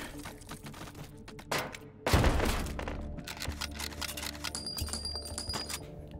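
Semi-automatic shotgun fire in the VR shooting game H3VR: a loud blast followed by a lingering boom and ringing tail, among lighter mechanical clicks and handling noises.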